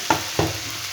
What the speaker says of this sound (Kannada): ನೋಡಿ, ಈಗ ಟೊಮಾಟೊ ಈರುಳ್ಳಿ ಎಲ್ಲ ಫ್ರೈ ಆಗುತ್ತೆ.